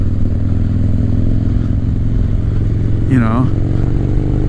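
A 1985 Harley-Davidson FXR engine running rough and out of tune, a loud, constant low rumble close by with someone talking briefly over it.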